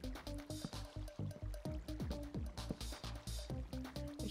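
Flowing water in Minecraft comes as a quick series of repeated liquid sloshing blips in a regular rhythm, fairly quiet and steady, with no talk.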